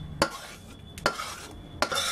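Melted jaggery mixture stirred in a kadhai: three distinct scraping strokes of a spoon against the pan, evenly spaced, with faint sizzle between them and no talk.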